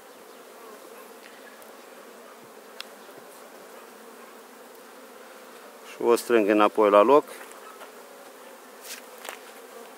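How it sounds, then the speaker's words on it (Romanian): Honeybees buzz loudly and close at an open hive during a spring inspection, a dense buzzing burst lasting about a second with a steady low insect hum and a quiet voice around it. "Uite și o albinuță cu polen aici."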